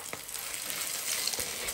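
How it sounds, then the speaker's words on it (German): Potato pancakes (Reibekuchen) with salami and cheese fry in a pan over low heat, giving a steady close sizzle with occasional soft pops and no talking. "Die Reibekuchen sollten schon auf kleiner Hitze ca. 5 bis 6 Minuten in der Pfanne gegart werden"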